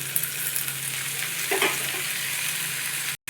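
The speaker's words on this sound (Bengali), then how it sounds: "মিষ্টি কুমড়ো আলু ছোলা আমার অনেকটাই কষানো হয়ে গেছে" Pumpkin, potato, tomato and sprouted chickpeas sauté in a pan with a steady, soft sizzle and a brief scrape of stirring near the middle, close by and with no talking.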